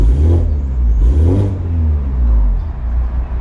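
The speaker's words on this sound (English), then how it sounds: "Like try rev it" A car with an aftermarket valved exhaust bought from Alibaba revs up close by, a deep, loud engine drone swelling in two quick surges before settling into a steady rumble.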